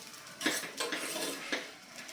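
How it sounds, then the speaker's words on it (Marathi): Raw rice is stirred in a pot with whole spices for coconut sweet rice, making a few distinct metal scrapes against the pot over a faint background sizzle. "आता हा तांदूळ साधारण दोन ते तीन मिनटे आपण थोड्या वेळची परतून घेऊयात"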